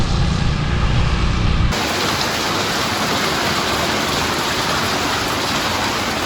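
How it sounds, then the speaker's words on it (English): Heavy rain falls in Hue, Vietnam, as a steady, dense hiss that fills the whole clip. After about two seconds the texture shifts slightly but stays loud and continuous. No voices. "it's raining in Hue"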